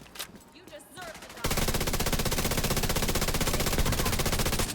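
A FAMAS rifle in The Division 2 fires a long unbroken automatic burst, loud and rapid, after a brief stretch of quieter scattered shots and background noise.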